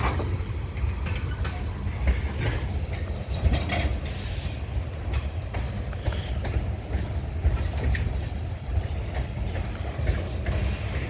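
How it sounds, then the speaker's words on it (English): A CN freight train rolls past, a continuous low rumble of wheels and cars with faint clatter throughout, fairly close and steady, no talk. "There you go. That's the train."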